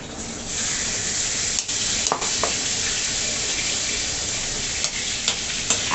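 Chicken fry sizzles in hot oil as an afternoon snack is cooked at home, a loud, steady, hissing crackle throughout with occasional clinks and scrapes of stirring.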